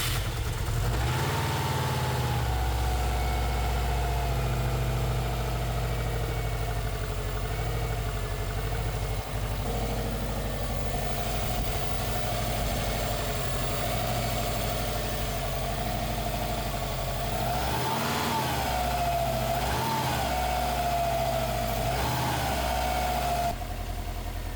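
Subaru car engine idling after repair work, a steady close mechanical hum with a few small revs and dips in pitch near the end, heard on its own without talk.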